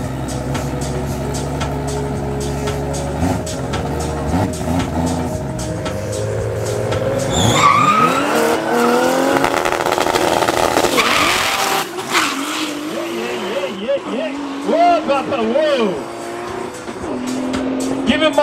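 A Datsun GX drift car at a raceway event revs hard and slides, with loud rising engine howl, long screeching tire squeal and skidding that build midway and continue to the end.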